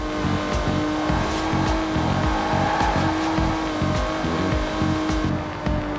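Aston Martin DB5 Vantage engine in Forza Horizon 4, a steady loud drone with rhythmic low pulsing, sustained and unbroken throughout, with no voices.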